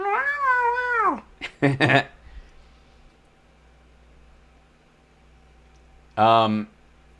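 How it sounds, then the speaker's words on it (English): A house cat upstairs lets out a long drawn-out wail, then a few short chirping meows, and after a quiet stretch with low hum, another loud yowling meow close to the microphone. "One of my cats upstairs is just like..."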